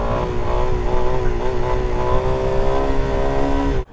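A Suzuki DRZ400SM supermoto engine revs hard and steadily during a wheelie, loud and close for nearly four seconds before cutting off abruptly.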